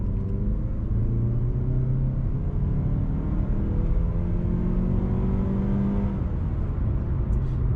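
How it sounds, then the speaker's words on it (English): A 2020 Mazda CX-30 engine revs hard and steadily as the vehicle accelerates in sport mode, with a deep, rising growl. No one speaks. "now we'll get the good acceleration in sport mode"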